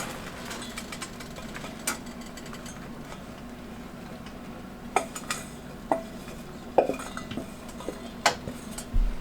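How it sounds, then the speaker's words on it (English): Beans dumped into a hot pan with bacon, scraping and clattering against the metal with a low steady sizzle beneath and a run of sharp utensil knocks growing busier toward the end. "So I'm gonna use the beans to deglaze this pan"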